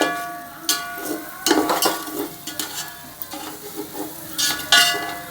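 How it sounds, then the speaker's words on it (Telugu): Onions, green chillies, ginger-garlic paste and turmeric fry in a pan for mutton biryani, with a steady close sizzle broken by repeated spatula scrapes and stirring clatter. "ఉల్లిగడ్డలు, పచ్చిమిరపకాయలు, అల్లం ఎల్లిగడ్డ వేగిన తర్వాత కొంచెం పసుపు వేసింది కదా."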